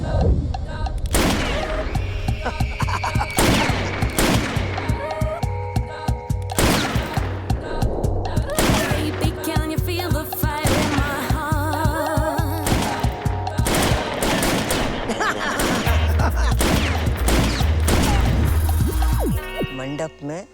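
Rapid gunfire in a Bollywood action film plays out as dense, loud bursts of shots under a musical score, with voices speaking over the action throughout.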